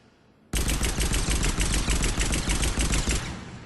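Eagle pistol firing in Mass Effect 3, a loud, rapid volley of sharp, closely spaced shots that starts abruptly and runs steadily for about three seconds before cutting off.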